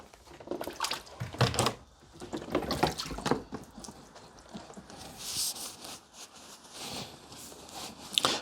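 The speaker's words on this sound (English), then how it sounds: "I'm going to take the ShockFlo out of the water now, dry her off" A ShockFlo EV charger is lifted out of water and dried off, bringing splashing, dripping and sloshing in irregular bursts along with soft rubbing and handling noises, fairly quiet and close.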